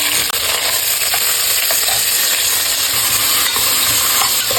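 Sliced onions with cinnamon, cloves, bay leaf and cardamom frying in hot oil for mint rice, a loud, close, steady sizzle with faint stirring clicks and no voices.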